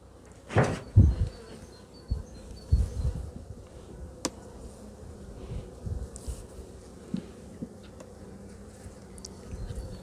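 Honey bees buzzing close by at a hive, a soft continuous drone with a few louder knocks and bumps near the start, no voices.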